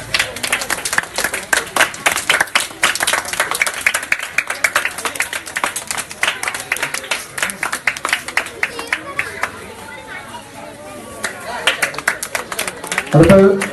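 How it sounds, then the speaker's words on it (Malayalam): An audience at a sports and arts club ceremony giving out study materials to students breaks into sustained applause, dense hand clapping that swells and continues for several seconds, with crowd chatter underneath. "നല്ലൊരു കൈയടി."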